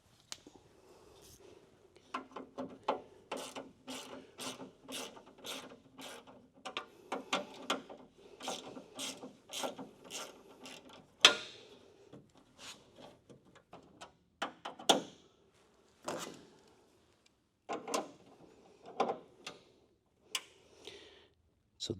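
A ratchet clicks in quick bursts while loosening fasteners on the door glass of a 1970-81 second-generation Camaro, each burst a close, sharp run of clicks followed by short pauses and a few slower single turns.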